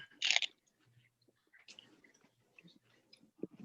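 Someone bites into a butter leaf lettuce wrap with a crisp, loud crunch up close, followed by quieter intermittent chewing and soft mouth sounds.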